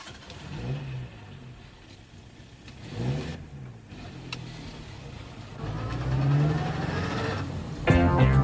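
A car engine starts and the car drives off, with several revving surges that rise and fall, the final pull growing louder and closer, with no talk over it.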